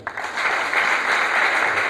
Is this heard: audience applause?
yes